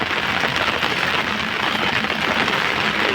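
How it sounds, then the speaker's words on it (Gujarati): Dense, steady rain hisses close by without a break, an even wash of falling water and no voices. "છે વરસાદી માહોલ જામ્યો છે દરકટામાં"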